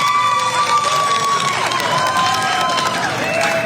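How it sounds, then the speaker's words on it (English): A parade crowd cheers and claps outdoors, a loud continuous roar of voices and shouts with sustained whoops and whistles over rhythmic clapping. "Everybody clap your hands!"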